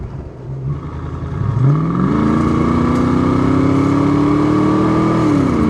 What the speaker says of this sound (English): you really hear more motor than you do the exhaust